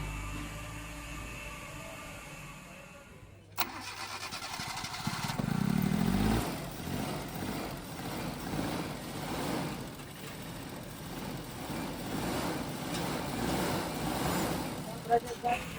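A Suzuki Jimny turbo engine cranks and fires after its spark plugs are fitted and timing is set, breaking into a steady, loud rumbling idle that runs on with voices talking over it.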